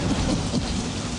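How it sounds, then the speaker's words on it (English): Steady rain with rolling thunder, a dense wash of falling water and a low rumble running through the whole stretch, no voices. "it's raining. It's nasty outside."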